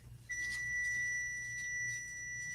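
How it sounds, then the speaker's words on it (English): A kitchen appliance signals that dinner is ready with a steady electronic beep, a thin high tone heard faintly from across a quiet room for about two seconds. "I think your dinner's beeping."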